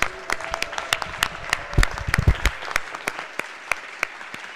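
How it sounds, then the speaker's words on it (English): Applause in a legislative House chamber during a floor session: a crowd claps loudly and briskly, with sharp close claps over a wider room of clapping that thins out toward the end. "give him a real round of applause"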